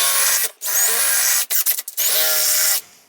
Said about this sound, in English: I'm going to have to drill them both out